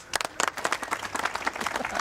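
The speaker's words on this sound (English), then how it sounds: "Big round of applause." Audience applause for a new scout leader being welcomed in at a scout group gathering: a dense burst of many hands clapping together, fairly close and steady across the whole stretch, with no talk over it.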